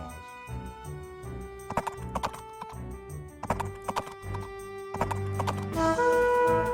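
Hoofbeats of a horse archer unit in the strategy game Age of Empires, a run of clip-clop steps with a whinny, set among chiming game tones and effects.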